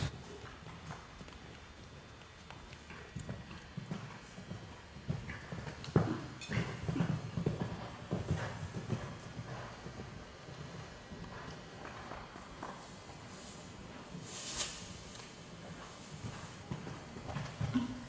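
Soft, irregular hoof clip-clops from a horse moving at a distance at a show-jumping clinic, with muffled background noise and occasional rustling throughout.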